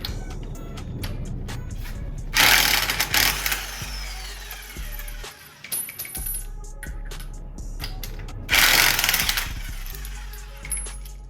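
Removing the wheel from a Ford Focus ST during a wheel bearing and knuckle job brings two loud bursts of an impact wrench, each about a second long, between scattered metallic clanks, taps and tool handling.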